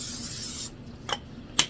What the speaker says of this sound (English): You want to make sure you spray it good.